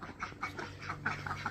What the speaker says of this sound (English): What are you ducks doing?